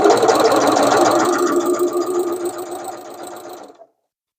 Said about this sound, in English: I'm just going to check what the stitch looks like, where I need to change my tension.